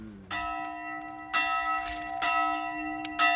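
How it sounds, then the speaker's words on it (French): Three church bells strike in turn, each ringing tone overlapping the last, creating a slightly discordant, sustained peal nearby. "c'est 3 cloches qui sont pas très accordées. Donc ça fait une sonnerie un peu."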